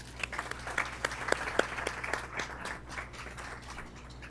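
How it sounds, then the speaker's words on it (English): Audience applause at an employee length-of-service award ceremony, steady clapping from a modest indoor crowd, fairly close and sustained, thinning slightly toward the end. "Let's give our Length of Service awardees a round of applause."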